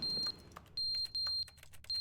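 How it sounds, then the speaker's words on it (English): A fire alarm in The Stanley Parable gives sharp, high-pitched electronic beeps in short repeated bursts with brief gaps between them, loud and close, with faint clicks in the pauses. "That must be a fire alarm or something."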